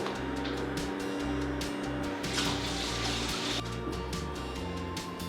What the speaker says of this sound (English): Now I'm just going to rinse off with tepid water the oil.